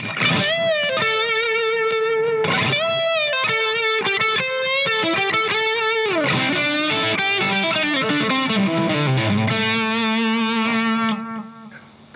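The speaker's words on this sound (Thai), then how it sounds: "ลองสปิตเป็นซิงเกิลคอยแล้วลองบูสต์ดูนะครับ" A boosted, gritty Fender electric guitar, split to single coil, plays a lively melodic phrase with bright, sustained notes and some chorus shimmer, loud and up front before fading out.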